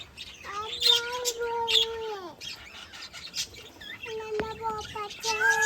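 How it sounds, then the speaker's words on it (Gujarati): Colourful parrots at a large cowshed give loud, close squawking calls in drawn-out bursts with short chirps between them. Other birds chatter faintly behind. "હું તમને દેખાડું કેવા પોપટ છે રંગબેરંગી"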